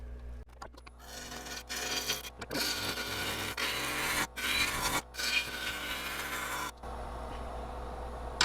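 A big, heavy bowl gouge cuts a cracked maple bowl on a wood lathe, giving a steady close rasping scrape in long passes broken by short pauses, with no talk.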